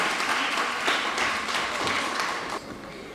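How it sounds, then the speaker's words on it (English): An audience at a school speech competition in Jamaica applauding a speaker: moderately loud, even clapping from a crowd that drops off abruptly near the end. "Give him a clap, please"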